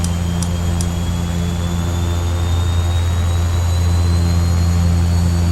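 A Beechcraft King Air C90 turboprop engine runs at low idle with a steady, loud, droning hum, a low rumble and a thin whine that slowly rises in pitch, and no voices.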